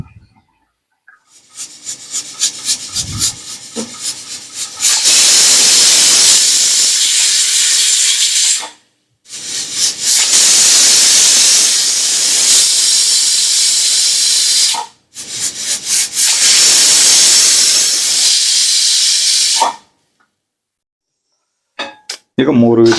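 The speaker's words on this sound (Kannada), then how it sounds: "ಈಗ 3 ವಿಷಲ್ ಆಗಿದೆ." A pressure cooker cooking mutton for biryani whistles three times, each blast a loud, sustained hissing jet of steam lasting several seconds, separated by short silences.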